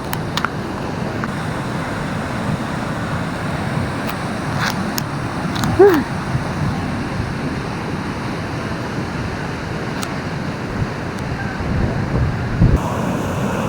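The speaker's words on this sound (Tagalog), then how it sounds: "Nakakalula yung tunog ng tubig." Water rushes in a loud, continuous roar at a dam in Iriga City, steady throughout, with a few faint voices and brief clicks heard under it.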